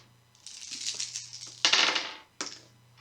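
A handful of six dice clatter and rattle across a tabletop for an attack roll in the Shadows of Brimstone board game, sounding as a long rolling rattle, then a sharp, loud second tumble and a brief final clack.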